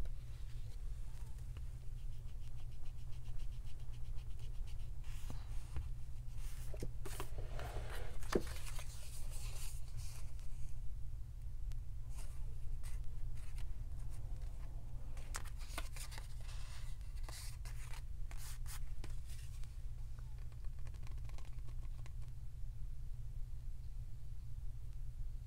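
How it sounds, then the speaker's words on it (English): A rubber eraser rubs a pencil mark off card stock for a junk-journal craft project, giving faint, scratchy back-and-forth scrubbing bursts over a low steady hum, with no talking. "Let me go ahead and erase this pencil mark."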